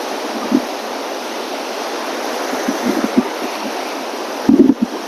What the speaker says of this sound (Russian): Да, волны очень сильные и быстрые.